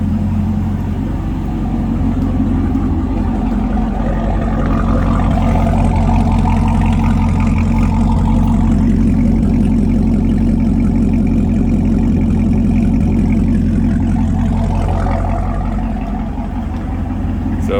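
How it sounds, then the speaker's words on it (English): Chevrolet Camaro engine idling, a steady low drone with a strong deep hum and a slight swell in the middle, heard close and continuous. "car sounds good"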